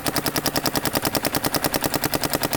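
Paintball marker firing in a steady rapid burst, a fast regular string of sharp pops, roughly nine or ten shots per second, loud and close for the whole stretch with no talk.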